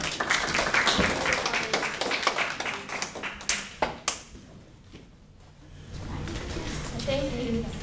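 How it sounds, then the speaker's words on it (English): Audience at a student presentation applauds a student speaker, with dense clapping for about four seconds that then thins out. Voices and room noise follow. "Please give a warm round of applause to Daniel."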